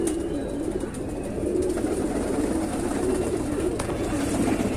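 Pigeons coo repeatedly in soft, low, throaty calls, close by, over a steady background hum.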